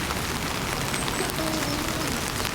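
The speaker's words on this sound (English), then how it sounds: "Hopefully by then the rain will stop a little bit." Steady rain falls near a river in Kyoto, a dense, even hiss of drops on surfaces continuing throughout.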